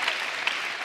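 Studio audience applauding at a late-night television comedy show, a brief burst of broad, even clapping from many people with no voices over it.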